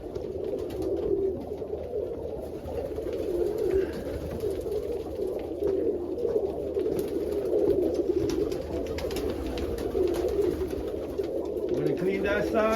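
Pigeons coo continuously in a coop, a steady low throaty murmur of many birds close by, while people talk intermittently over it.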